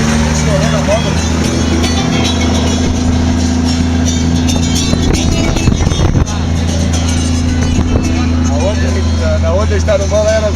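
A motorcycle engine runs and revs at a Formula Truck race meeting in Guaporé, a loud, steady mechanical drone with a brief surge midway, while people talk nearby.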